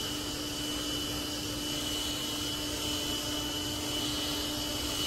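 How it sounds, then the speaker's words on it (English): A Tikom L9000 robot vacuum running at high suction on carpet gives a steady, loud broadband whir with a constant tonal hum, unbroken throughout with no talk. "You can hear it high suction."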